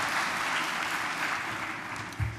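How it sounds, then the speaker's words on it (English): Applause from a healthcare conference audience in Baltimore fills a large hall, a steady dense wash of many hands clapping at moderate volume throughout, with no voices over it. "give yourselves a round of applause"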